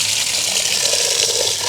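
Water pours steadily from a tap while ambarella fruits are washed before making pickle in a village home, a continuous close gushing hiss with no break and no talk.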